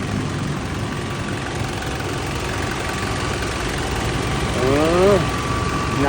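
A Nissan Frontier engine idles steadily with its air-conditioning compressor engaged, giving a continuous close drone with a faint whine and a brief rising pitch sweep near the end.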